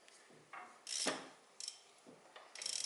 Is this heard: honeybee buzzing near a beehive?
no